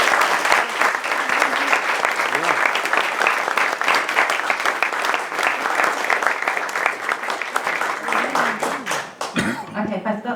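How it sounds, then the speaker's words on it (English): Sustained audience applause fills a hall at a talk on Brexit's impact on EU and British citizens, dense and steady clapping from many hands that cuts off abruptly near the end. "I think we should definitely give them a big round of applause"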